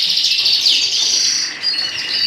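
Pet birds paired up in breeding cages chirp and tweet continuously, bright overlapping calls close by with no talking.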